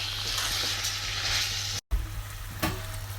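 Curry leaf powder and red chili powder sizzle in hot lentil stew while being stirred. The frying hiss is steady and close, with a brief break and a light clink partway through.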